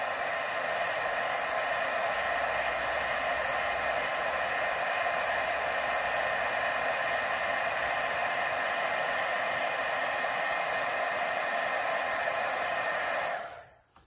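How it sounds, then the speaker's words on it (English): An embossing heat gun melts embossing powder on a stamped card, a loud, steady blowing roar that runs without a break for about thirteen seconds, then cuts off abruptly near the end; no talk. "So let me hit that with my embossing gun."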